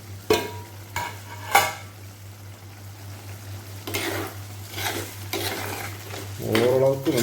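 Metal utensils scrape and clatter against a pan of cooking chicken in a few bursts over a faint sizzle, with a low steady hum underneath.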